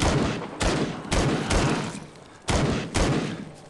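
Gunfire from the zombie shooter Into the Dead 2 on iOS, during a storm event on Nightmare difficulty: about six loud, punchy shots in uneven pairs, each with a short decaying tail.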